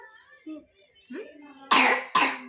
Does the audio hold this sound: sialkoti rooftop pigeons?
no